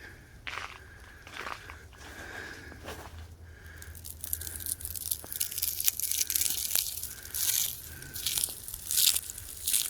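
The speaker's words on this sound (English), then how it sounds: "Crunch. Solid ice." Solid ice coating tree branches after an October ice storm in Moore, Oklahoma crunches and crackles up close in a series of sharp, brittle snaps and crumbles, growing denser and louder toward the end.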